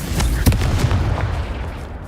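A Confringo blasting-curse spell fires in the Hogwarts Legacy video game, a sharp burst at the start followed by a rumbling, crackling boom that fades over two seconds, loud and close with no talk.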